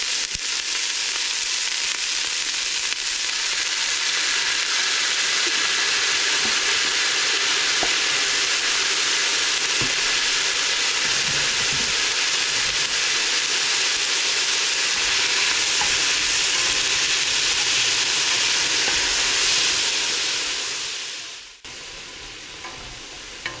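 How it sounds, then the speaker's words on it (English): Onion, celery, carrots and garlic fry in a soup pot over medium heat, giving a loud, steady, close sizzle that runs without pause and then drops off abruptly at the end. "We're just going to have our pot on about medium right now, and we're just going to cook this until the onions and"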